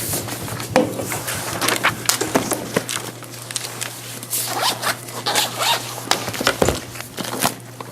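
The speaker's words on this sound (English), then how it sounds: "Too many zippers." Zippers being opened and closed, a rapid series of loud, close ratcheting zips with short pauses between them and no talk over them.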